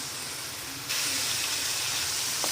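A masala corn sabzi with chili and tomato paste sizzles steadily in a pan, a broad hissing that jumps louder partway through and then holds constant, with no talking.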